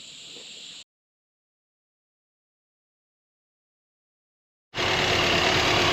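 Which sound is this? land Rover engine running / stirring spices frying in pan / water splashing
land Rover engine running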